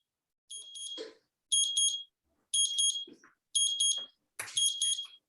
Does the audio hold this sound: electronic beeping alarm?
yes